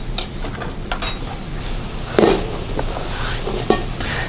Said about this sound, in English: These I'm going to add to my bread cubes.